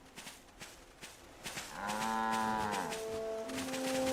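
A person imitates a cow's moo, a drawn-out, wavering low call that is fairly quiet and rises after some faint background clicks.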